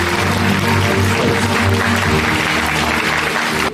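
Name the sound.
audience applause at year-end party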